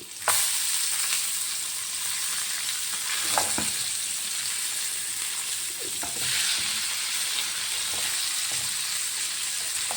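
Small sardines frying in hot oil with garlic and curry leaves, a steady close sizzle with several scraping stirs and turns of the pan, no talking.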